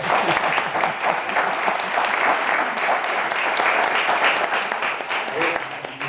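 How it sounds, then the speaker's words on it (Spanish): A room full of people gives loud, continuous applause to a speaker at a talk, with dense clapping holding steady before easing slightly at the end. "vamos a dar un aplauso a Laura."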